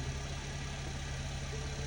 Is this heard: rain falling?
no